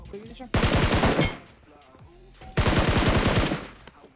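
Two loud bursts of automatic gunfire in PUBG Mobile as a player shoots bots, each rapid volley lasting about a second with a quieter gap between them.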